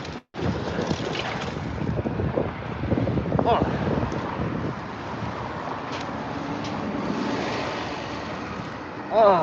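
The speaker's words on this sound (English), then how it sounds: "the wind is kind of picking up" Gusty wind buffets the microphone outdoors on a San Francisco morning, a steady low rumble and roar that swells and dips throughout, with a louder blast at the very end.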